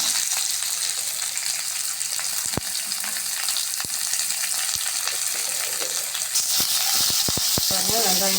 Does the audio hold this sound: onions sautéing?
yes